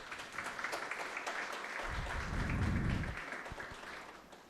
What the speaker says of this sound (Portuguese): Uma salva de palmas, né, nesse momento.